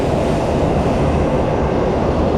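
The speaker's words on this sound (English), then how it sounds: "तो गाइस हमारी ट्रेन आ चुकी है, I would say bullet train" A Japanese bullet train between Osaka and Tokyo rushes past close by, a loud, steady roar and rumble with no voices.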